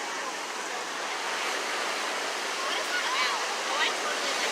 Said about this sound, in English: Love the sound of the waves.